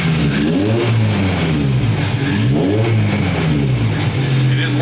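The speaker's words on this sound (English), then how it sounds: "If we rev the car, we should see that go up." A Honda Del Sol with a VTEC engine, strapped to a dyno, revs loudly in several repeated rising-and-falling bursts close up, with no speech over it.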